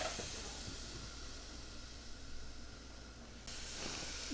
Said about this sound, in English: Hear that sizzling sound?